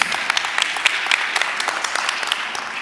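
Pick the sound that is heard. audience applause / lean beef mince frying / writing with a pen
audience applause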